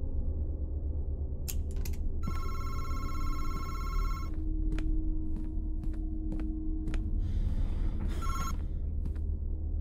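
A telephone rings inside the horror game MADiSON, its bright repeated bell bursts cutting in among clicks and footstep-like knocks over a low ambient drone, no voices present.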